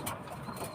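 Racing pigeon giving a short, soft coo at close range, brief and low, over faint background noise.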